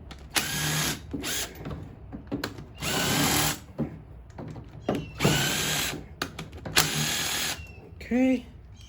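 Impact gun removing bolts from the top end of a Honda Recon 250 ATV engine, several loud close bursts of rattling hammering and whirring separated by pauses, with someone talking between bursts.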